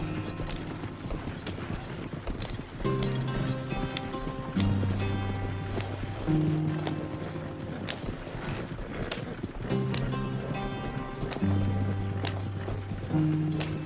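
Steady clip-clop of horse hooves at a brisk pace in the video game Red Dead Redemption 2, with sustained low musical tones layered over the busy rhythmic clatter.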